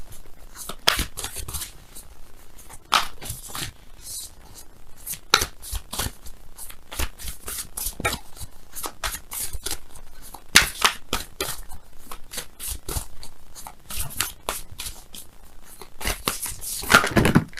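Tarot cards being shuffled by hand, repeated crisp riffles and papery flutters in quick bursts, close and fairly loud, continuing steadily with no talk.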